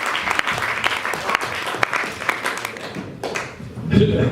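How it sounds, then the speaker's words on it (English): Studio audience applause at a science and technology show, a steady wash of clapping with sharp individual claps, fading toward the end as a voice begins. "Round of applause."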